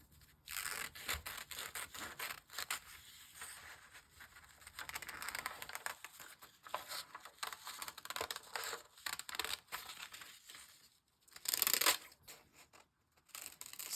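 A paper sewing pattern being cut out, with irregular crisp rustling, snipping and crumpling of paper close by, quiet overall with a brief louder crinkle near the end and no talk.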